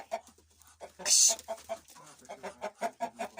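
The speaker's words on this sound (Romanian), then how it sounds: "Și aici e cucoșul. Și aici sunt găinile." Hens cluck close by in a village yard in a steady run of short, rhythmic clucks, broken once by a brief, loud, harsh squawk.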